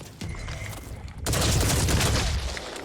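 Rapid gunfire in the tactical video game Phoenix Point, a dense rattling fusillade that grows louder and fuller after a moment, sustained bursts of overlapping shots with no talking.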